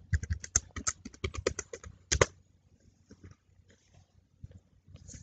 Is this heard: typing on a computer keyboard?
yes